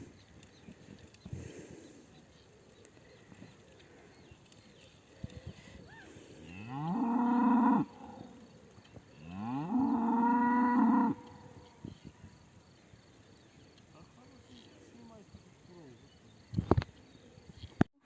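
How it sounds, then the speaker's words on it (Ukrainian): A cow lets out two long, low moos a few seconds apart, fairly close, amid faint outdoor background noise. "Пішла корова додому"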